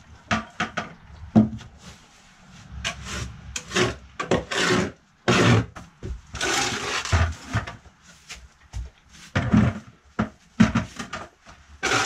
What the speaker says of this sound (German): Jetzt geht's ans Schwein ausmisten.